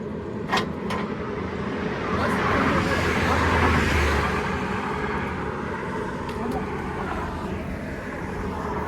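A steady, loud roar of a Toyota Fortuner moving fast on the Samruddhi Mahamarg highway, with rushing wind and engine noise swelling slightly in the middle before holding constant.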